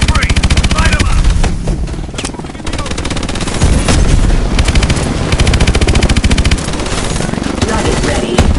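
Sustained machine gun fire rattles in rapid continuous bursts during a Call of Duty: Advanced Warfare campaign battle, loud and close, with heavy booms and voices speaking underneath.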